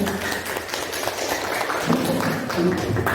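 A school teachers' gathering breaks into steady applause for a presenter, a dense, close patter of many hands clapping under a low murmur of voices.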